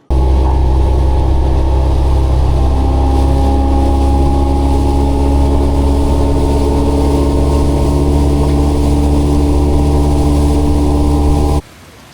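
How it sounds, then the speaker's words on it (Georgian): A motorboat in the Caribbean pulls away, its engine a loud, steady close drone with strong low harmonics that runs continuously and then cuts off abruptly near the end. "აი, გავიდა ერთი ნავი"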